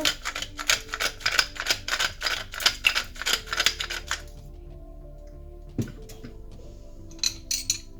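A pepper mill grinds over a piece of white fish in a parcel dish, giving a quick run of close, crisp ratcheting clicks that then stop, followed by a few scattered light kitchen taps.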